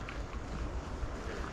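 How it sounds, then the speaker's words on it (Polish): Wind rushing through forest trees, a steady broad whoosh with rumbling gusts buffeting the microphone, continuous and fairly quiet, with no talking. "Teraz wiatr, drzewa się ruszyły."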